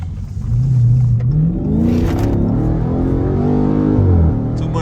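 A Dodge Scat Pack V8 revs hard under acceleration, its loud engine note rising and falling through gear changes with a steady, close drone and no talk.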